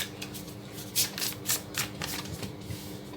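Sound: shuffling tarot cards

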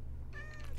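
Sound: cat meowing in the Minecraft video game

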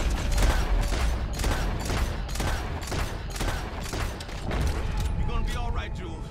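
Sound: gunfire in the video game Red Dead Redemption 2

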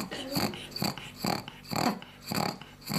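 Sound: sick pug dog snorting and breathing heavily

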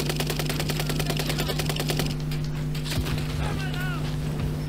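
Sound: gunfire in Warzone video game

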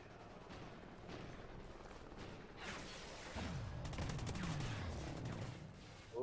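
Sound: gunfire from Call of Duty Ghosts video game

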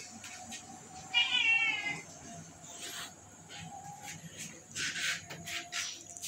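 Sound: cat meowing

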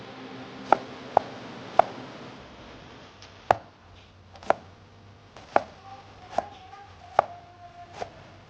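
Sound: chopping onions with a knife

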